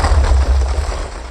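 A TNT cannon fires in Minecraft Java 1.17, giving one continuous deep rumbling explosion that stays loud and heavy throughout, with no talk.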